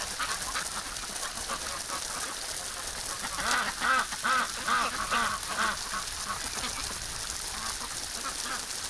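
Several ducks quack in a lively cluster midway through, over a steady hiss of spraying water.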